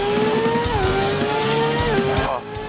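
A racing-game car engine drones and revs with rising and falling pitch steps as it accelerates through gears, loud and steady, while someone talks over it.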